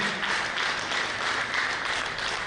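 A crowd applauds a government minister at a strategy launch event, steady dense clapping filling the room without a break, with no voices standing out above it.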